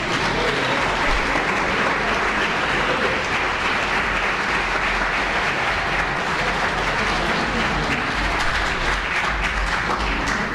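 A church congregation at a Sunday school service claps together in dense, steady applause that stays loud and unbroken from start to finish.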